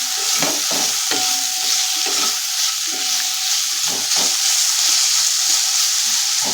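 Onion frying in a pan with salt over low heat, with a continuous close sizzle broken by regular spatula stirs and scrapes.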